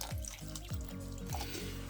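Water is poured into a stock pot of stew, giving a few bubbly, gurgling glugs at a rough rhythm, close and soft with no talking.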